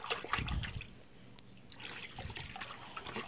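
Water in a bathtub during a pet's bath, sloshing and splashing close by in uneven bursts, with a quieter trickling stretch in the middle before the splashing picks up again.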